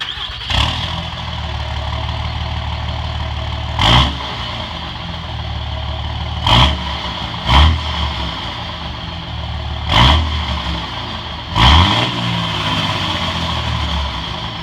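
A lifted 2007 Dodge Ram 2500 with a 5.9L Cummins turbo diesel idles with a steady low rumble, broken by six sharp revs that flare up and drop back down. No one speaks.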